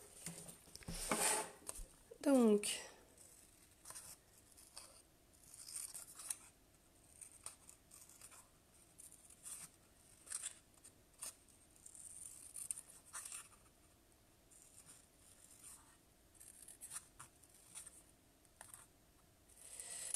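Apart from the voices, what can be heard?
cutting paper with a pair of scissors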